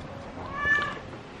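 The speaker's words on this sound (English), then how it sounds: "There's a very talkative kitty." A talkative cat gives a single drawn-out meow at close range against a soft background of rain.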